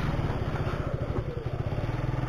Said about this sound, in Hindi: सेल्फ स्टार्ट से हो गई।